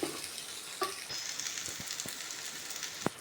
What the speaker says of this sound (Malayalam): ഇനി നല്ല പോലെ ഒന്ന് വഴണ്ടി വരട്ടെ.